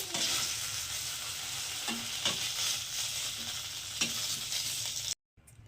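A steady, bright sizzle of paneer frying in a pan, with occasional scraping stirs, then an abrupt cut to near silence at the end.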